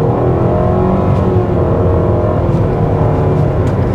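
A 2023 Nissan X-Trail engine at full throttle, heard from inside the cabin as a steady, loud, droning rising hum with road rumble, continuous throughout and with no speech.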